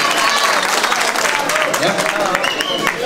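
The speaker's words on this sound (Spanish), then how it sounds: "fuerte las palmas," An audience at a queen-election pageant with a dance group presentation claps in a dense, steady burst, with a voice talking over the applause.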